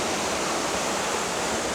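Kondilla Falls after a massive rainstorm, heavy water pouring in a dense, unbroken roar. The rushing hiss is loud and steady throughout, with no voices.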